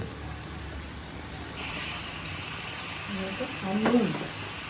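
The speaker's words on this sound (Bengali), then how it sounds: "এখানে আমাদের মশলাটা ভাজা হয়ে গেছে, এবার এর মধ্যে অ্যাড করা হচ্ছে টমেটো।" Tomato goes into frying masala of potato and onion for mutton chana masala, a steady close sizzle that swells slightly as it hits, with a brief faint voice near the end.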